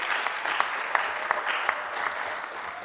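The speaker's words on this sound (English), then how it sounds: "Makerere community, can you please clap for this?" Makerere University community audience clapping at a UN Day concert, a dense, steady wash of many hands with a few sharper individual claps standing out, fairly close and even in level throughout.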